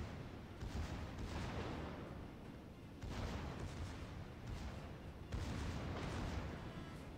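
Naval cannon fire in the World of Warships game: three heavy, rumbling broadband salvos roughly every two and a half seconds, each sustained and booming, with no voices.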